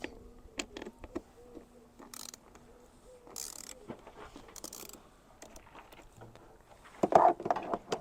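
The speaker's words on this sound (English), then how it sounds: "with our 7mm socket, we're going to loosen this Jubilee clip" A 7mm socket ratchets to loosen a Jubilee hose clip on the airbox of a 2004–2010 Vauxhall Astra H: quiet, irregular metallic clicks and scrapes up close, with a louder rustle near the end.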